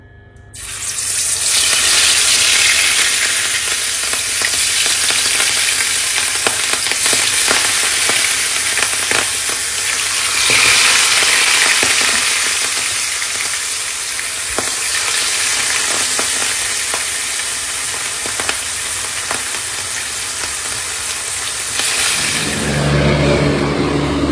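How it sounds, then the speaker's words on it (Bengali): Fish frying in a pan during home cooking, a loud steady sizzle with crackling bursts that holds for about twenty seconds, no talking. "এখন মাছটা ভাজবো।"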